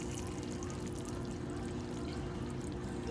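A cup of hot water pouring into chili in a crock pot, a continuous close splashing pour with a steady, even level and no voices.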